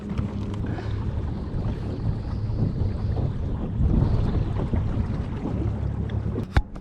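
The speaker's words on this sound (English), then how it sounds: "The wind seems like it's dying down." Wind buffets the microphone at a big shallow weedy pond during spring bass fishing from a boat on the water, giving a steady rushing noise with a sharp knock near the end.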